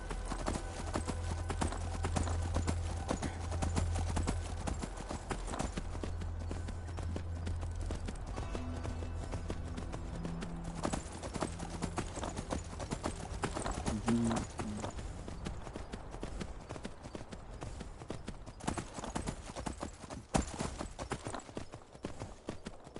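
Steady clip-clop of horse hooves in Skyrim Special Edition at a brisk, even pace, continuous throughout with a low hum and faint tonal sounds in the background.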